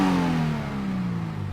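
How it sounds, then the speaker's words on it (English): Subaru BRZ boxer engine exhaust in the BeamNG.drive video game, a loud, close burst that winds down as the pitch falls, its tone droning steadily, with no talking. "my exhaust sounds like a Subaru Boxer"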